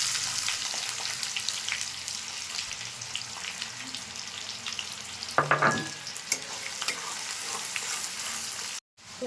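Whole spices and chopped onion fry in hot refined oil in a pan, a steady close sizzle with a brief burst of louder crackling and stirring partway through.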